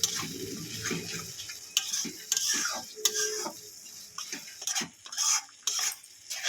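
A spoon stirs spice paste frying in a pan for katla fish curry: repeated scraping strokes against the pan over a steady, moderate sizzle, close by with no talking.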